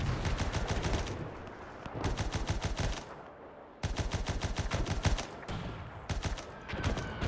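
Repeated artillery and gunfire from a WW1 battle in the video game Between Empires, with loud bursts of rapid shots in several volleys, separated by brief lulls.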